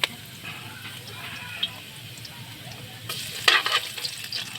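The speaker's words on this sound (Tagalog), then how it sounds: "Una tayo luya guys. Papulahon, papulahon na natin yung konti." Ginger sizzles and fries steadily in a hot pan, a close crackling hiss that swells toward the end with a few sharper pops.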